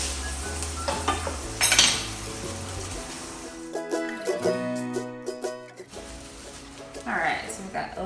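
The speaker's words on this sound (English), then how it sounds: "so we've got a little sauteed kale" Kale sauteing in a pan, light sizzling and stirring with occasional utensil clinks, mixed with music and people talking nearby.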